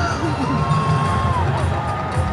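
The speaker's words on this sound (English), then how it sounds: "It takes a lot to make a dressage crowd go nuts." A dressage arena crowd at a freestyle competition at the 2010 World Equestrian Games cheers and whoops loudly, a dense roar of voices with whistles rising over it throughout.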